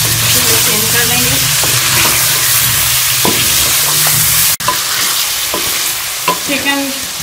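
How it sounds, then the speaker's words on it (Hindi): Chicken pieces fry in a karahi with a steady loud sizzle, broken by scraping stirs and clinks of a spoon against the metal, close by and without talk. "चिकन को मैं कलर चेंज होने तक फ्राई कर लूँगी।"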